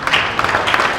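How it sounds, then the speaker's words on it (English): Audience applause for teenagers at a conference session, a brief, steady patter of many hands clapping at moderate loudness with no talk over it. "Let's clap for the teenagers who are here."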